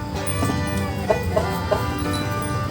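Breeding hens and roosters on a Thai chicken farm cluck steadily and loudly, with a few sharper clucks standing out against a constant farmyard din.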